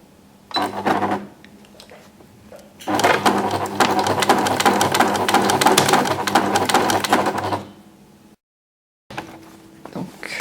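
A sewing machine stitches a zigzag to mend a torn hem, running in a short burst, then a long steady whirring run, then starting again after a pause.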